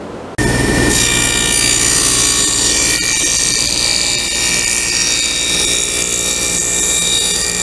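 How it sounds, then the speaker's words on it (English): A router cuts a dado along the bottom edge of wood boards for drawer boxes, a loud steady high-pitched machining whine starting abruptly and running continuously up close, with no talk. "put a dado right along the bottom edge here"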